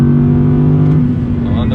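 A 2020 Audi R8 powers hard out of a turn on track, its engine a loud, steady close-up howl for a brief moment.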